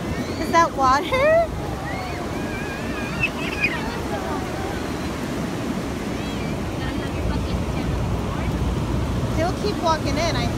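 Ocean surf rolls and washes ashore at a California beach in a continuous low roar, with wind buffeting the microphone and voices of people talking and a child calling out over the water.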